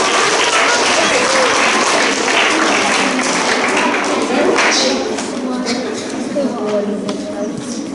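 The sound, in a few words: school assembly applause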